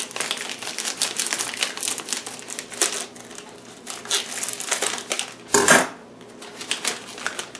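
Crinkly plastic chip bag rustling and crunching with sharp snips of scissors cutting off its top, close up, ending in a loud crackle.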